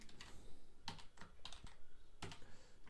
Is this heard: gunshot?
no